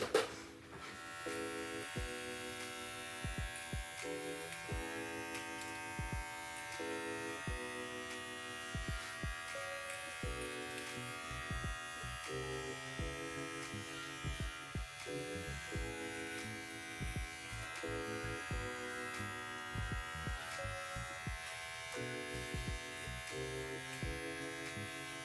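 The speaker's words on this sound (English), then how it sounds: "I'm just gonna do a quick shave up of my neck." Electric clippers buzz steadily while shaving up the back of the neck during an at-home pixie cut, a close, continuous drone broken by short rhythmic dips as the blade moves through hair, with no talking.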